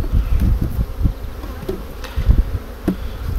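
Buckfast honeybees buzz around an open hive, a close, continuous droning hum with individual bees flitting past the microphone and light knocks now and then.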